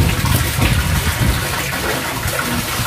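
Water poured and splashing over clothes being washed by hand, a steady, close gushing rush with sloshing through the whole stretch, no talk.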